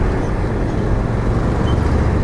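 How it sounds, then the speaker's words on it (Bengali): Dense road traffic crawling through a jam on a Bangladeshi highway toward Sylhet, heard as a steady, loud, low rumble of engines with no break. "রাস্তায় প্রচুর জ্যাম,"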